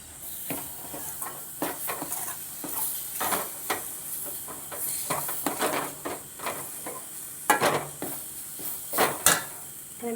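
Grated coconut being roasted in a pan and stirred, giving repeated scraping, rustling strokes with soft sizzling and hiss between them, fairly close and uneven in rhythm, with no talking.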